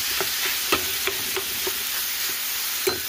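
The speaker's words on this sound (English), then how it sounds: "Spread it throughout the pan." Chopped meat sizzles in a frying pan while a utensil stirs and scrapes through it, giving a steady hiss broken by several sharp clicks and scrapes.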